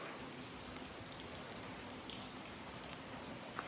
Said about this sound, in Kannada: ರಾತ್ರಿಯಿಂದ ಜಿಟಿ ಮಳೆ ಮೈಸೂರಲ್ಲಿ.